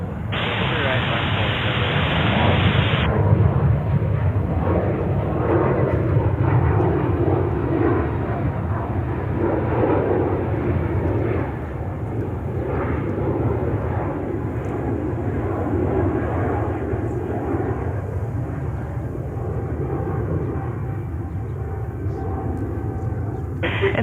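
Jet engines roar steadily on a runway at JFK Airport, a loud continuous broadband rumble near the microphone, with air traffic control radio voices speaking over it.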